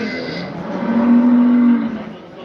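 Cow at a livestock market in Bolu, a single loud sustained moo rising and fading, heard alone.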